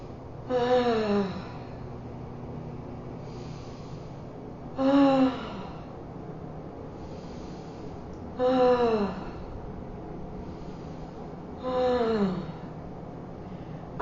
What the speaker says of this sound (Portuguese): 20 respirações profundas, que podem ser mais ou menos assim, ó.